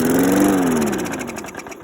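The engine of a 35-year-old lawn mower with a carburetor problem catches and runs, a loud close mechanical drone whose pitch rises briefly and then sags as it settles.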